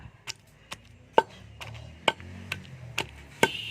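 Small onions pounded in a stone mortar for a rustic roti chutney give about eight sharp, irregular knocks, close and loud against a quiet background, with no talking.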